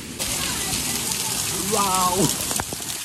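A steady rush of falling water fills the air at Thooval waterfall in Idukki, broad and continuous, with a voice briefly rising above it midway.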